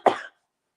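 A single short, close cough from a woman with a morning cough, abrupt and followed by silence.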